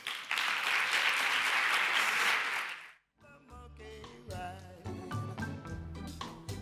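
A conference audience at a leadership event bursts into loud, dense applause for about three seconds, then it cuts off abruptly and music with a steady beat takes over.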